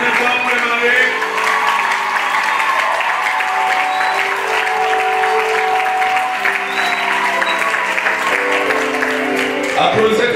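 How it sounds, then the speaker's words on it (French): Wedding guests at a nuptial blessing ceremony applaud the newlyweds, with sustained, dense clapping filling the room throughout and a musical backdrop underneath. "Applaudissez très très fort."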